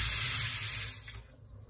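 Water runs steadily from a washbasin tap in a hotel bathroom in Pattaya, a loud continuous hiss that fades as the flow is shut off near the end.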